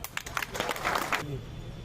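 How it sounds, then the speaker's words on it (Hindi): A crowd claps loudly at a trade show in a Srinagar arts emporium, a short burst of dense applause that stops abruptly, followed by quieter background murmur. "जोरदार तालियां।"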